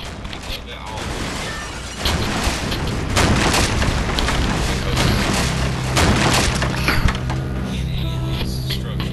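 Crumbling, booming destruction of structures in the video game Demolition Inc., with a dense wash of cracks and splintering rumbles that swells after the first couple of seconds and stays loud throughout.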